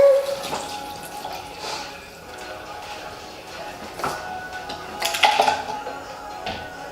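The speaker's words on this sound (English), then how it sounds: "I'm just kind of getting the rest of her hair wet" Tap water runs steadily while a woman's hair is wetted during a shampoo demonstration, a continuous splashing wash with brief louder surges of spray toward the end.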